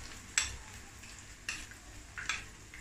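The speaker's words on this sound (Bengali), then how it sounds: "এখন আমি একে একে সবগুলি এভাবে ফ্রাই করে নিব" Pointed gourd (potol) pieces fry in a pan with a steady low sizzle, broken by three brief bursts of crackling and scraping, likely as pieces are added or turned.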